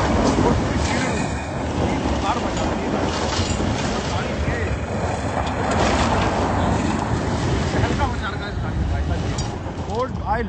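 A Ford Endeavour SUV pushes off-road through jungle brush, its engine drone and the crackle of branches and rough ground forming a steady, loud rumble throughout, with a voice speaking over it at times.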